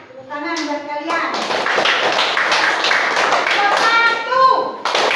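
A third-grade class claps hands together in a lively, rhythmic burst of taps and claps, loud and close, with children's voices calling out over the clapping.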